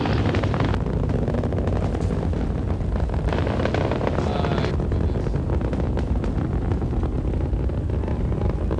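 Space Shuttle Challenger's main engines roaring during launch, a dense, continuous rumbling roar that stays loud and steady throughout, heard from a distance with wind buffeting and no clear talk.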